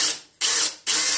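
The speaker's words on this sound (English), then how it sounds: "Let's drill in right around here." A power drill whines in loud, steady bursts, three runs of high buzzing separated by short pauses, close up with no voices, drilling a 4 millimeter hole in a Miele TwinDos detergent canister.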